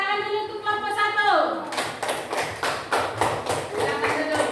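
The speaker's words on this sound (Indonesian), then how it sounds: "Ayo, tepuk tangan dulu untuk kelompok 1" Classroom applause for a student group after their presentation on buying and selling at market, broadband clapping bursts arriving after a voice, steady and close, continuing for several seconds.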